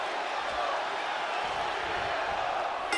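Arena crowd noise from the WWE 2K24 wrestling game at a packed King of the Ring Finals in New Orleans, a steady, dense roar of many voices that holds evenly throughout.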